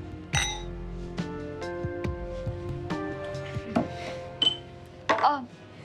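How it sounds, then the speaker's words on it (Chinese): Glasses clink together during a friendly toast between people at a table, with several sharp, bright chimes scattered over a few seconds, some ringing briefly, with soft background noise between. "那我们为友谊干杯"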